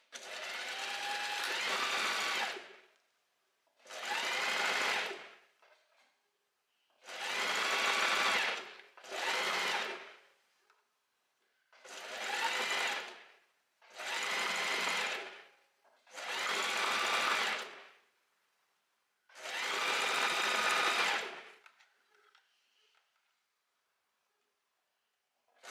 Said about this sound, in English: then I just start sewing and make sure you front and back stitch.